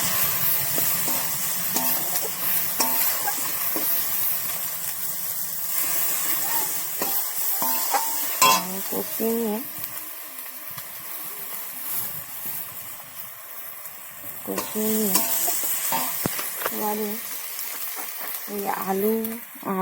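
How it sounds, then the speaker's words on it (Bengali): Bottle gourd stems are cooked with turmeric in a hot pan, giving a loud continuous sizzle and hiss with repeated stirring scrapes, and a voice speaks now and then over the frying. "মাপ মতন হলুদ দিয়ে ভালো করে কষিয়ে নেব"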